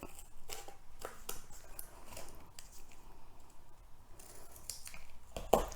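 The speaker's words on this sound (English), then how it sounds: "you need like this corrugated cardboard, which is a bit thicker. Cut out a little piece." Scissors snipping through thick corrugated cardboard to cut out a small piece for a child's furniture craft, a close series of crisp, crunchy cuts repeating steadily across the clip with no talk.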